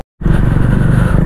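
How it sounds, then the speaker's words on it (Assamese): A motorcycle with its silencer removed runs loud and hot, its harsh, steady engine roar starting abruptly after a brief silence and holding close and uninterrupted throughout, with no talking. "বাইকৰ পৰা ডিবিগিলা কাটা আছে আৰু চাউণ্ডটো পূৰা লাউড হৈ আছে ইঞ্জিনটো এতিয়া গৰম হয়"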